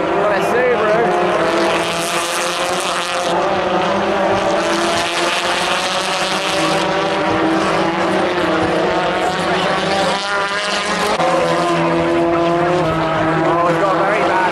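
Subaru touring cars roar past during a British Touring Car Championship race at Thruxton, with loud, sustained engine noise and shifting pitch as they pass close by, while spectators talk nearby.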